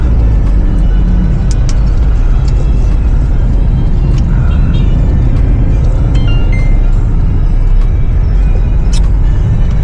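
Dense, stalled road traffic with trucks at Pag-asa in the Philippines: a loud, constant low engine rumble with occasional brake hisses and rattles, close by and unbroken throughout.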